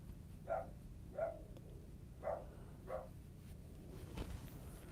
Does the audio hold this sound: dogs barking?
yes